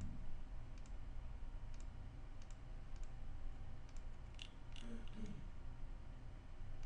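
A computer mouse gives a handful of faint, isolated clicks spaced a second or so apart in a quiet room.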